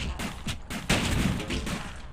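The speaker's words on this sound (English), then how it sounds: "So let's just go in here and throw a grenade." A grenade goes off in the video game Utopia 9: a sudden loud blast followed by a sustained rumbling roar that lingers for over a second amid other game noise.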